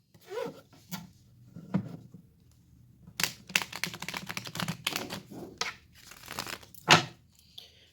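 A deck of tarot cards being shuffled by hand, with quick close rustling and flicking bursts, several short riffles spaced irregularly across a quiet background.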